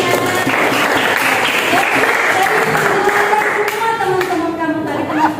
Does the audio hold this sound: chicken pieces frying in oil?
no